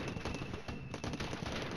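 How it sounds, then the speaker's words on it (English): Dense, continuous rattle of rapid explosions and gunfire from an artillery barrage in the wargame Flashpoint Campaigns Red Storm, loud and steady throughout with no pauses. "The first of our artillery falls."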